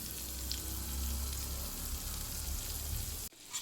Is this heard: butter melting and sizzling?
yes